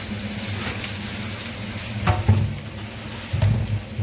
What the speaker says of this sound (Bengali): আর চলো কী মাছ এনেছে কড়ার মধ্যে ঢেলে নিচ্ছে বোনু।